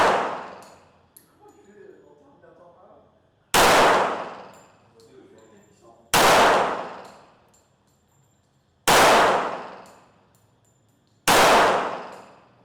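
Five sharp, loud reports from a Colt 45 pistol, each spaced a few seconds apart with a ringing decay, fired during a butchering session in Thailand; people talk quietly between the shots.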